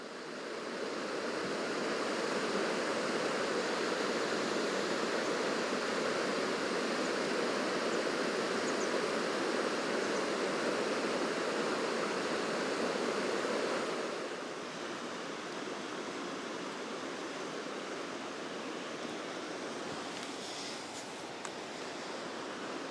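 A river on Dartmoor in winter rushing steadily as a broad, unbroken wash of water noise, loud and even for most of the time before dropping slightly softer toward the end, with no voices.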